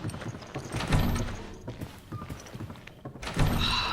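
A door-opening sequence in the video game Resident Evil 5: heavy wooden thunks and knocks with scraping movement, a few distinct loud hits spaced a couple of seconds apart.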